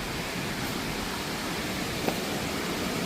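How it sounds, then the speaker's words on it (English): A waterfall at Turtletown Falls makes a steady, broadband roar of rushing water, constant and fairly close, with no voices over it. "we're coming up on the waterfall"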